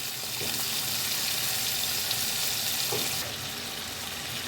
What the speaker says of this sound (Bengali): এখন আমি এগুলোকে প্রথমে ভেজে নেব